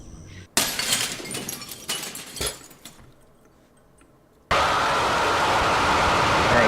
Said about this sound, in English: when that guy gets here, he smashes your window and does a little dance